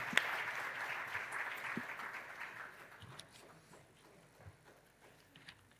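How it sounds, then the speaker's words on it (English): An audience at a management awards ceremony welcomes the guest of honor with applause that starts full and then thins and fades into a few scattered claps and quiet room noise. "please welcome him with a huge round of applause."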